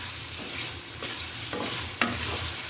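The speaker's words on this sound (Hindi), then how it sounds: "अब सैम्यूल जो है इसके अंदर केचप ऐड करेंगे। 2 से 3 टेबलस्पून केचप है ये। और इसको अच्छी तरह मिक्स करेंगे।" Ketchup being stirred into pasta sauce in a hot pan, a steady sizzle with soft scraping strokes of the spoon and a sharper clink near the end, close and continuous with no talking.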